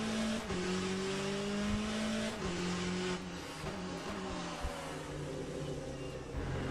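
GTE race cars pass on a circuit in the Le Mans Ultimate sim racing game. Several engine notes whine and fall in pitch as the cars go by over a steady, dense roar with brief tire noise.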